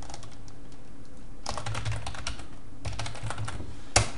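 Computer keyboard typing C# code, bursts of rapid close key clicks separated by short pauses, ending with a sharper single keystroke.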